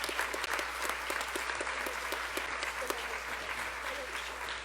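Crowd applause at a rally about saving schools, heard as a steady, fairly distant patter of many hands clapping over a low constant hum, with a few sharper claps standing out.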